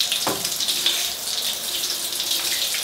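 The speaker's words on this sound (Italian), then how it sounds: "Do una passata con l'acqua," Running water rinsing a shower during cleaning, a steady hissing spray with a brief splash at the start, close and even throughout.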